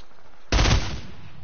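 A single loud, sharp burst of gunfire in a video game, a short rattling blast that cuts in abruptly and fades quickly into a quiet background.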